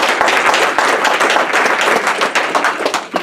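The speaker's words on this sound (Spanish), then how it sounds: "Denle el aplauso al Señor." A church congregation claps together in praise during a service, a dense, loud, close wash of many hands with a faint rhythmic pulse throughout the short burst.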